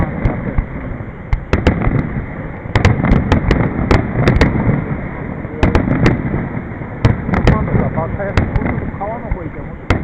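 Shogawa tourism festival fireworks crackling in repeated clusters of sharp pops and bangs, loud and close, with a continuous crowd hubbub and nearby talking between the volleys.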